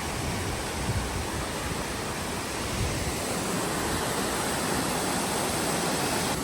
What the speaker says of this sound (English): Just a few waterfalls